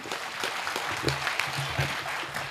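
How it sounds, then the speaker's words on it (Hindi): Moderate applause from an audience at a Hindi poetry recital, a kavi sammelan, with scattered clapping and crowd noise continuing at an even level. "ताली बजाओ"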